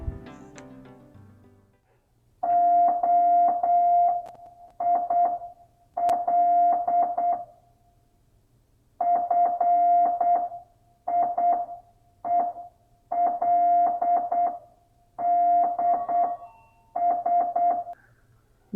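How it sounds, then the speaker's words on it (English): Telegraph beeps sound in short rhythmic bursts of a steady electronic tone, spelling out a coded message in groups separated by brief pauses, clear and fairly close over faint background hum. "listen and very quickly try to translate those beeps into the message"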